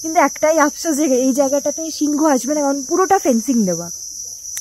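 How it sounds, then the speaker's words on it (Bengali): Crickets chirp steadily at night on a Nakuru safari, a high continuous trill running under a man's close, continuous talking. "এখানে তো জাস্ট এখন ঝিঝি পোকা"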